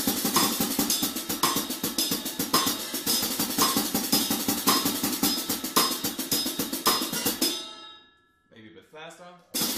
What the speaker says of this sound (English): Then I would do the same thing with both my feet between the two hi-hats.